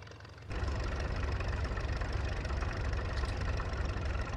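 A tractor in Farming Simulator 19 fires up and settles into a steady, loud diesel idle, its low knocking rumble continuous after a brief quiet moment at the start.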